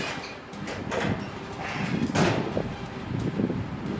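A door opens and closes in a small room at night, a muffled creak and shuffle blended with rustling, wind-like noise across a few seconds, with no one speaking.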